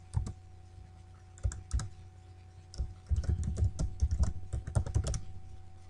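Keystrokes on a computer keyboard as a user password is entered, starting as a few scattered clicks and then quickening into a dense, close run of tapping with no voices.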